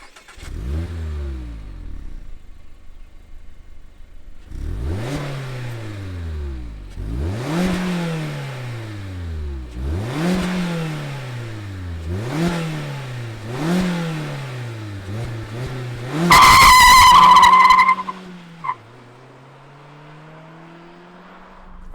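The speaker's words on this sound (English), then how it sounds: "let's fire up this MX-5 RF and hear what it sounds like" A 2020 Mazda MX-5 RF roadster fires up with a brief starter crank, then its engine is blipped through a series of sharp, rising revs that fall back each time, close and loud, before settling to a low idle.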